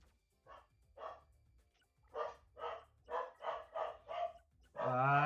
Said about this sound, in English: They've got to calm the dog down because the postman arrived.